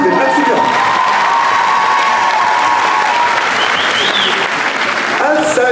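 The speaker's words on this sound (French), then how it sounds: "On peut l'applaudir s'il vous plaît." Loud, continuous applause with some cheering from a crowd at a cosplay jury introduction during a manga convention, a voice calling out over the clapping.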